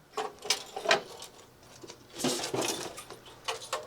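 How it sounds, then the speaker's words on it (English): Small hard pieces rattle and clatter inside the metal power supply casing of a Synology DS2413+ in short, irregular bursts as it is tilted, faint and close. "something is loose and moving around inside our power supply"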